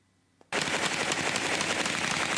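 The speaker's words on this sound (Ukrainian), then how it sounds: "Ой, вистріл!" Gunfire in war footage from eastern Ukraine: after a brief quiet and one faint pop, a sustained, loud burst of rapid automatic fire begins and rattles on without pause.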